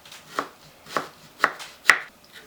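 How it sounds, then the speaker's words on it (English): A knife chops through food on a cutting board in four distinct, evenly spaced crisp thuds, close and clear with no talk. "So I'm going to chop that in half."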